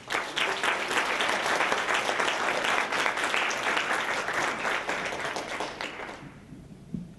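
An audience applauds warmly to welcome sculptor Martin Kersels at a lecture, sustained dense clapping that holds steady for several seconds before fading out near the end.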